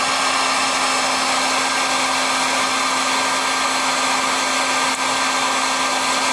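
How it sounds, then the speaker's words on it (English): A hot air blower runs in one steady, loud whoosh with a constant hum, shrinking heat shrink tubing down tight onto a wire loop on a watercolor frame, with no speech. "I'm going to blow some hot air. And you can see how the tubing heat shrinks."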